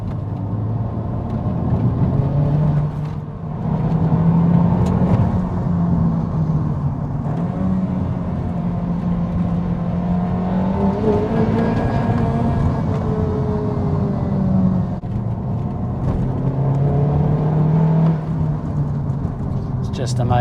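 A 2021 Honda Civic Type R Limited Edition FK8 taken through a tight hairpin: steady loud engine drone with pitch sweeping down and back up as it slows and accelerates, road and wind noise underneath, heard from inside the car.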